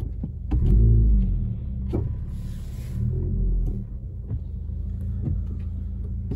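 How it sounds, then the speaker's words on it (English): Car engine rumbling low and steady during a nighttime drive on icy, snowy roads in Big Bear, with a few soft thumps and bumps over the road surface and no talk. "We're gonna do a little nighttime drive"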